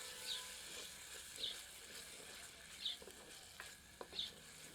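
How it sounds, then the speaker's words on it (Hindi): Ladle stirring a tomato curry in a pot for a mountain-style mutton dish, giving a quiet, soft scraping and sloshing with a faint sizzle, a few light clinks recurring at a slow, irregular pace. "एक बार अच्छी तरह करछी चलाते हैं।"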